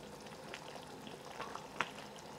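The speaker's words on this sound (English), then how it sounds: "And essentially, when the water comes back to a boil," A pot of water returning to a boil with leafy greens cooking in it for a Cantonese meal, a constant low bubbling hiss with a small tap near the end, close and fairly quiet.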